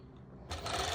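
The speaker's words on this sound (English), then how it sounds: "I'm sewing over all 4 layers of fabric." A sewing machine starts up halfway through, stitching through four layers of swimwear fabric with a close, steady mechanical whir after a brief quiet lead-in.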